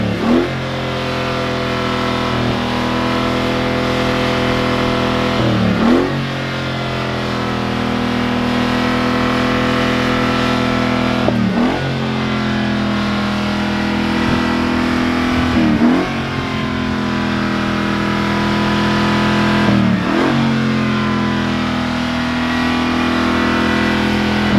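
A Mercedes-AMG G63 G Wagon engine warming up, its loud, steady exhaust drone broken by repeated throttle blips that swell and fall back about every five seconds.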